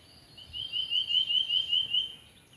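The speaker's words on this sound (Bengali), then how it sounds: "পাখির মধুর ডাক, অসংখ্য পাখি।" A bird calls outdoors beside a dried-up pond among jackfruit trees, a short series of about six rhythmic, fairly faint chirping notes over quiet background.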